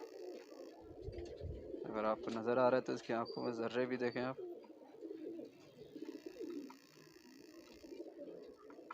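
A male high-flyer pigeon with double eyelids and a pink beak gives a close, rolling coo lasting a couple of seconds, while someone talks in Hindi before and after.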